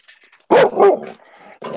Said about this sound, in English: the other one's barking at me